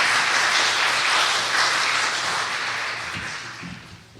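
Audience at a university nursing colloquium presentation applauding, a dense wash of clapping that holds steady and then thins out toward the end.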